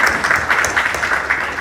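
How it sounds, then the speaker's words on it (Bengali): Audience applause at an award ceremony honouring ten women from the aviation and tourism sectors: steady, dense clapping from a crowd, continuous and fairly loud through the short stretch. "আমরা সকলে মিলে তাদের জন্য একটা করতালি দিই।"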